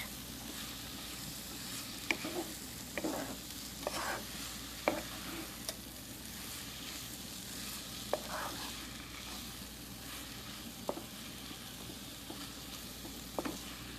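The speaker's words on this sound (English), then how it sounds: "And we will let it saute a little bit and then we will add rice." Spinach and black beans sauté in a pan for Brazilian-style black beans with palak rice, a steady soft sizzle broken by occasional clinks and scrapes of stirring, with no talking.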